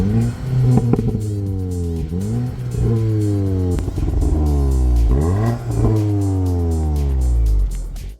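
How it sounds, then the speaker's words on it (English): A Volkswagen Golf GTI with a 261 bhp engine and twin exhaust revs hard on a test track. Repeated rising engine sweeps climb through the gears with brief dips at each shift, loud and close, with no talking. "So here's how the Golf GTI sounds like."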